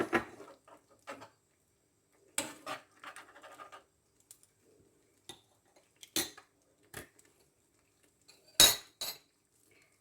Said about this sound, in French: Je fais du bruit avec mes cuillères.